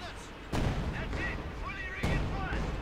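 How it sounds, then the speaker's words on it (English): Artillery barrage in the video game Company of Heroes 2, hitting a Pak 40 anti-tank gun: two heavy booming blasts about a second and a half apart, loud and close, with battle noise and a commentator's voice running underneath. "And a quick barrage on the pack 40."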